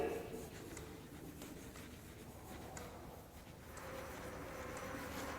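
Pen scratching on paper as the date is written in a formal letter, soft and continuous close up, with faint room noise.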